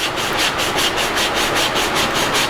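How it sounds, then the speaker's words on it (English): Hand sanding a routed wooden piece for a rustic charging and book display stand, a loud, close, rhythmic scratching of sandpaper going back and forth in even strokes, with no talking. "a little bit of sanding just ensures that any small imperfections are taken care of"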